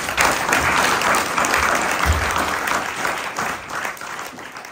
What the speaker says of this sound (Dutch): Mag ik een applaus voor Emmy en Gil